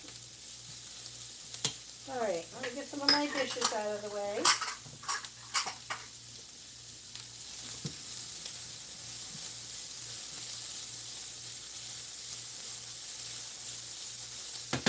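Food sizzles steadily in a pan as it sautés on a stovetop, a continuous hiss running through the whole clip, with a person talking briefly near the start over it.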